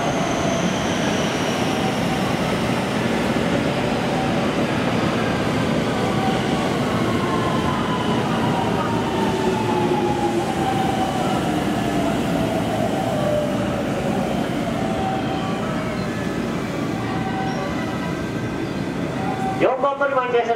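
A JR train pulls in to platform 3 at Amagasaki Station during the evening rush, a steady loud rumble with wheel and brake squeals sliding in pitch and a sharp clatter near the end, with station announcements over it.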